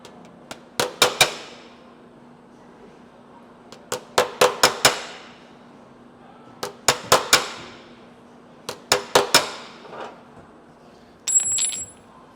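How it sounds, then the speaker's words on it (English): Hammer striking a car body metal panel against a dolly, sharp ringing metallic taps in quick clusters of three or four, close and clear over a faint background hum. "when you're hammering down on that, you'll see the grooves come into the panel"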